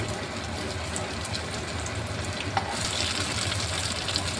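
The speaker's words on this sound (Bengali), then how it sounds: "উল্টিয়ে পাল্টে একটু লালচে করে ভেজে নিচ্ছি।" Paneer and potato patties shallow fry in oil in a kadai with a soft continuous sizzle, an occasional faint clink from turning them gently, no voices.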